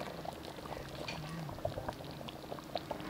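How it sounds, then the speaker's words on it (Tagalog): Excess broth is ladled out of a simmering pot for pancit Malabon, with a continuous bubbling boil and soft pouring and liquid splashes throughout, close and even. "Babawasan ko lang po ng kaldo dahil masyado pong marami."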